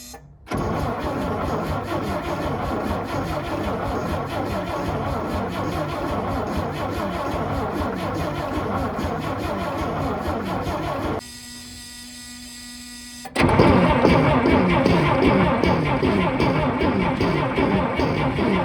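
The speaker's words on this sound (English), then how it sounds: "I'm gonna go ahead and crank on it. Hopefully it'll fill up that fuel bulb and fire up." An old, long-neglected antique truck engine cranks over and over without firing, a loud rhythmic churning starter drone that pauses briefly before resuming even harder.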